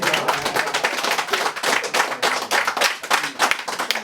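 Dense, steady clapping from a family audience at a dowry-handover celebration (remise de dot) fills the whole stretch, loud and close, with many hands overlapping and no pause.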